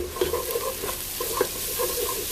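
Onions fry in a pan with a steady, close sizzle, broken by several soft stirring scrapes at irregular intervals and no voices.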